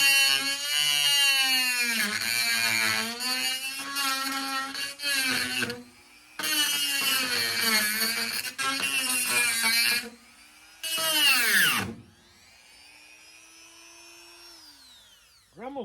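A Dremel rotary tool grinds on the passenger-side mirror mount of a VW Beetle, whining loudly in several long bursts with brief pauses, the pitch dipping under load, then winding down to a quieter spinning tone at the end.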